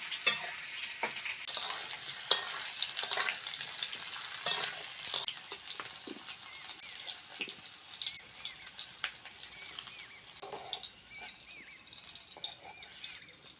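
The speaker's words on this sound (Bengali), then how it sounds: "করলা আর আলুটা ভালো করে ভেজে নিয়েছি সেদিকে থেকে তুলে নেব" Bitter gourd and potato pieces frying in hot oil for an Indian vegetable sabji, crackling sizzle throughout with repeated stirring scrapes and spatters, loud and close at first and easing slightly later, no talking.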